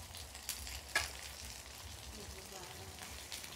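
Ingredients for a Thai braised pork leg stew are stir-fried in a pan, with a soft steady sizzle and a few faint clinks of utensils, all quiet and close.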